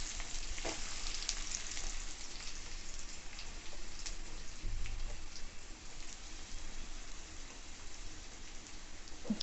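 Green chilies and onions sizzle and crackle in hot oil for a chicken curry, a steady close frying hiss running throughout with scattered pops and faint stirring, with no talking.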